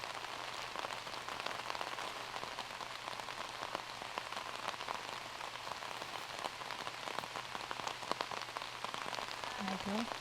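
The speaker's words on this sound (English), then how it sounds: "As you can hear the rain dumping on these ladies now." Heavy rain pours steadily on a disc golf course during a women's tournament round, a dense, even hiss of drops with scattered sharper taps and faint voices now and then.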